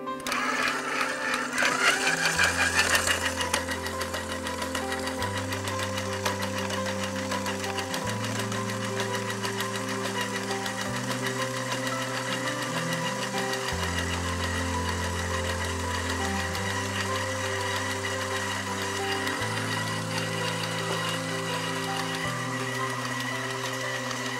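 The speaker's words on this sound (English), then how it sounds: "We recommend for dough making to use the stand mixer at speed 6." A KitchenAid bowl-lift stand mixer kneads dough at speed 6 with a power knead spiral hook, giving a loud continuous motor drone with a rhythmic low thumping as the dough turns.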